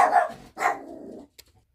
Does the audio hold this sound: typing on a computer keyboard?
no